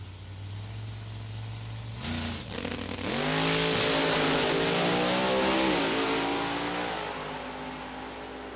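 A top alcohol funny car at a drag racing test session idles low, then revs hard into a loud, sustained roaring run that climbs in pitch and fades away after several seconds.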